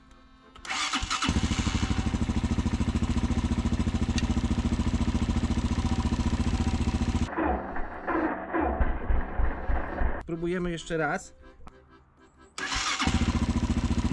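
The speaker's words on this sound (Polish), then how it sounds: "Napięcie nie może spaść poniżej 10, czyli rozrusznikiem trzeba zakręcić." A starter motor cranks a car engine during a battery test with a loud, steady whirring that stops, followed by clattering, a brief spoken remark, then another cranking burst.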